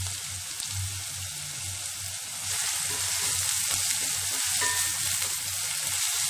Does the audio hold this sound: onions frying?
yes